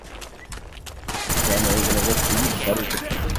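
An M14 firing rapidly in Black Ops, a loud sustained burst of gunfire that starts a second in after quieter game sounds and lasts to the end.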